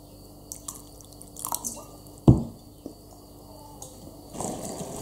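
A little water is added to a simmering curry dish in a cooking pan. One sharp splash lands, followed by soft drips and gentle bubbling in an otherwise quiet kitchen.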